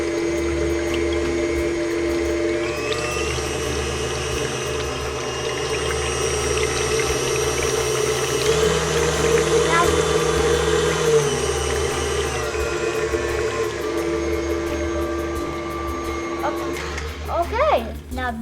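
A stand mixer stirs brownie batter: a steady motor hum and whir runs throughout, close and fairly loud, shifting in pitch midway, with people talking briefly near the end.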